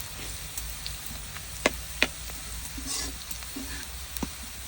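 Pork sizzles in a pot over a clay stove in a village kitchen, with onion browned alongside ginger, garlic, coriander and chili powder. Steady, soft frying crackle runs throughout, broken by a few sharp clinks and scrapes of stirring.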